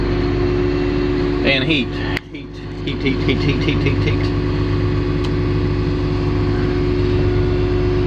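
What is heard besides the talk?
Caterpillar machine engine running and warming up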